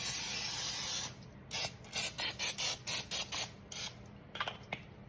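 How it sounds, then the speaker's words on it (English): Cooking spray is sprayed in a home kitchen, starting with one long hiss and then a quick run of about eight short, sharp bursts close to the mic, followed by a few faint scrapes. "We're going to spray these."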